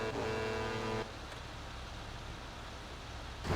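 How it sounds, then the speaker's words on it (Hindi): In GTA V, a money vehicle drives up: a car engine hums, then shifts to a steady road rumble and hiss before swelling again at the end, with no talk. "ये आ गई पैसे की गाड़ी।"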